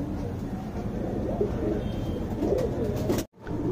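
A Dhooma Regdar tournament pigeon cooing close by, with repeated soft throaty coos over a steady background hum that cuts out briefly near the end.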